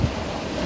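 Steady, rumbling wind buffets the microphone in cold, windy rain, a broadband roar that holds constant for the whole short moment with no voices.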